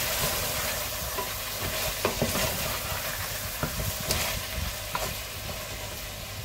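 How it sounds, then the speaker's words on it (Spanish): A sofrito is stirred in a frying pan, with a steady loud sizzle and scattered light scrapes and clicks as it is turned. "Vamos a darle una vueltecita."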